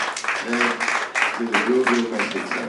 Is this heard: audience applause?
yes